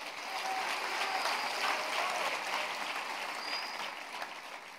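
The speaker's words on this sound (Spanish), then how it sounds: "¡Dale un aplauso bien fuerte al rey." Steady applause from a church congregation at a Sunday communion service, a dense even wash of clapping that holds at moderate level throughout.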